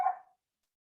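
Dogs barking indoors as people come into a house: one short bark, a silent gap, then another bark starting, both close and fairly loud, with no talking.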